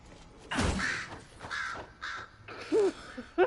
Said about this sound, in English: I just scared the shit out of the crow.